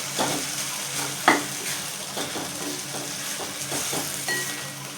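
Tomato and onion sautéing in a pan for spring onion chutney, with a steady close sizzle and frying crackle and occasional scraping stirs of a spoon against the pan, and no talk.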